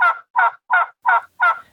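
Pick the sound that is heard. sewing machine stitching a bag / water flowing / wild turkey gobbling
wild turkey gobbling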